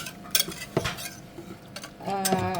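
A utensil clinks and scrapes against a bowl while cake batter with cocoa powder is mixed, a few sharp taps followed by a brief rougher swirl, fairly quiet and close.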